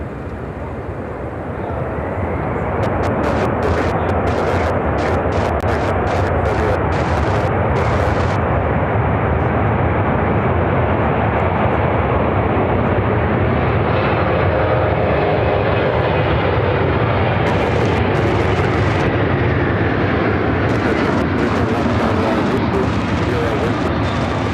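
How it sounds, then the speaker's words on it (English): An Atlas Air Boeing 747-400 freighter arriving at Chicago O'Hare from Anchorage, its jet engines building into a loud, sustained close roar that lasts throughout, with voices now and then. "This is Atlas Air 8468 coming in from Anchorage on a 747-400 freighter."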